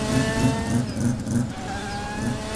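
Mazda race car in a video game, a steady, close, buzzy engine drone with a slight rhythmic pulsing, briefly easing before picking up again.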